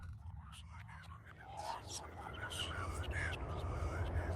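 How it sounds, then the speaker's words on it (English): Breathy, hushed whispering from the video game Penumbra Overture drifts in and out over a low droning rumble, growing slightly louder toward the end. "Hear creepy whispers."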